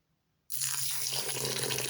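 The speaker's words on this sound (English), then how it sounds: "Wash 1 cup of basmati rice with hot water." Hot water gushes from a kitchen sink tap as basmati rice is rinsed. Near silence is broken by a sudden, steady, close splashing stream that keeps running to the end.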